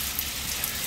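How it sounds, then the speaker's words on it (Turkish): Rain falls steadily on a surface, a close, even patter with no talking. "yağmur yağıyor arkadaşlar"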